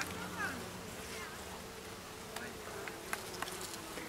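A dense, steady hum of many honeybees buzzing together close by at an open hive during inspection, with a few faint clicks and knocks.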